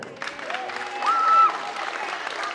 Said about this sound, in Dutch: Nog even een groot applaus voor Akimaki